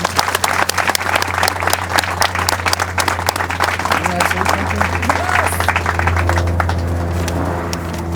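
An outdoor audience at a public art reveal ceremony claps steadily and loudly for several seconds, a dense, continuous patter of hands that slowly thins out near the end.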